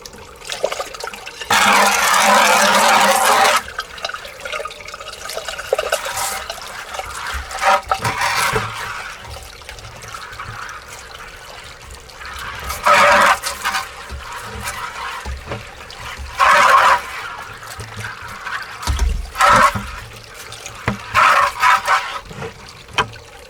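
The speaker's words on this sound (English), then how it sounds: "we'll wash out the bucket." Water rinsing out a bucket of pay dirt during gold prospecting, heard as several bursts of splashing and pouring separated by quieter trickles and handling noises.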